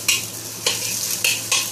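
A spatula scrapes and stirs fried rice with ham in a hot pan for Australian-style nasi goreng, giving loud close swishes in a few sweeps over a constant sizzle.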